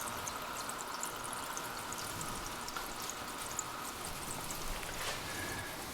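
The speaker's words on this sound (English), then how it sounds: "Drop her in the diesel oil. Bring her up. Yeah, let her drain." Diesel oil runs off a freshly cleaned engine valve spring during a cylinder head refresh, a steady soft trickle and patter held close and continuous, with no talking.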